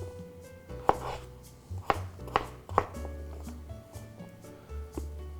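A knife cuts potatoes on a cutting board in a kitchen, with four or five distinct, close, crisp chops spaced about a second apart over a quiet background hum.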